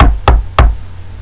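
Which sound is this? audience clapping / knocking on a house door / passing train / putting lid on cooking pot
knocking on a house door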